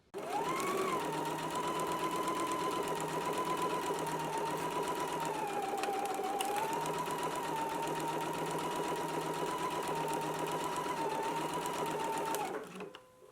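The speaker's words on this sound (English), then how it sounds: "Let's go ahead and do our stitch now." Sewing machine stitching a garment seam, one long continuous run of fast steady mechanical whirring, close and even, stopping abruptly at the end.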